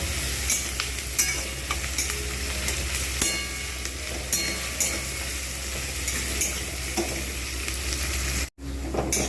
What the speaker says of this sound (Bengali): এদিকে আমি বেরেস্তাটা তৈরি করে নেব